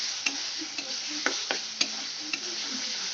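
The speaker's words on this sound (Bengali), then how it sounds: "আমার পেঁয়াজটা কষে আসছে" Salted onions sizzle steadily in a pan for a fish curry, near and continuous, with a handful of sharp spatula taps and scrapes as they are stirred.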